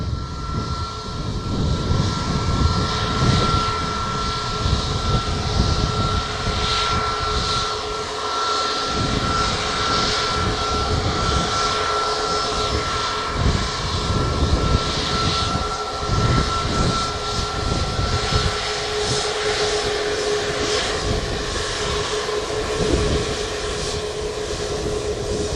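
Jet airliner taking off from runway 07 at Montego Bay, Jamaica: a steady, loud engine roar with a sustained high whine that holds for the whole stretch, heard from close by with no talk.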